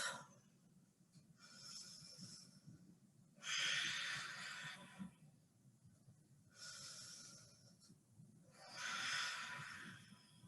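Deep, audible breathing held through a yoga pose in a Yoga Burn routine, with two pairs of slow breath cycles, each pairing a softer inhale with a louder, airy exhale, close to the microphone and with no talking.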